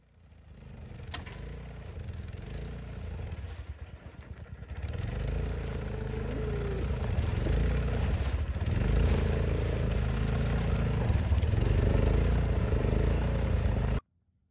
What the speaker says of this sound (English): it sounded like my grandpa using a snowblower that's not normally used for other things